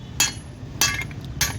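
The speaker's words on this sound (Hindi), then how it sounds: "देखिए काफ़ी टाइट है, तभी इतने हथौड़े मारना पड़ रहे हैं" Three hard metal hammer blows, evenly spaced about half a second apart, knock a tight part out of an electric rickshaw. Each strike is sharp, close and ringing.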